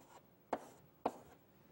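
Chalk or marker strokes on a board in a computer science lecture hall, two short scratchy taps about half a second apart, faint and close, with no talking.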